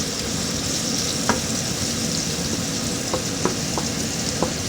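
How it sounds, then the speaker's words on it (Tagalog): Onions sautéing in a pan, a constant close sizzle with a few light clicks of a utensil against the pan scattered through, no voices. "Magigisa na ako ng sibuyas."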